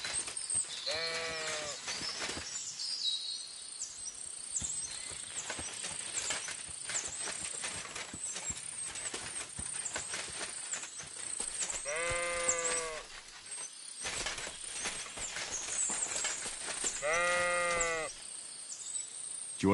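Sheep bleat in the video game Kingdom Come: Deliverance II, with several distinct wavering bleats at moderate distance, spaced apart over a busy background of rustling and movement.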